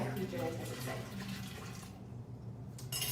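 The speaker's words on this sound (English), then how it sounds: "Rinse the bowl out" Running tap water rinses out a bowl in a kitchen while preparing Jamaican oxtail with rice and peas, a close splashing stream with a person talking over it before it briefly drops away and resumes.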